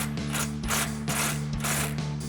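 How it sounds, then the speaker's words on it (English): Ratchet fitted with a 16 mm swivel socket tightening a bolt during a front leveling kit install on a WD RAM 2500, giving repeated loud clicking strokes in a steady rhythm, close up with no talk. "we'll again grab that 16 mil swivel socket on a ratchet"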